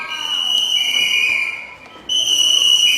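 Shrill whistles are blown loudly and continuously at close range during a fur ban protest in Toronto, a sustained piercing tone that drops out briefly and then resumes at full strength.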